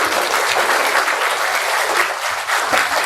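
A university closing ceremony audience applauds loudly and evenly, a dense wash of close clapping that holds steady for a few seconds without voices.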